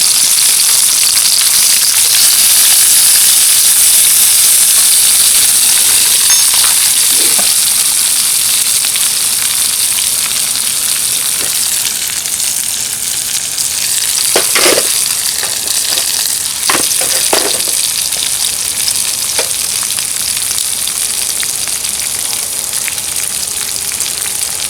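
Onions frying in a pan give a loud, continuous hiss and sizzle that runs throughout, with a few scraping stirs and clinks partway through.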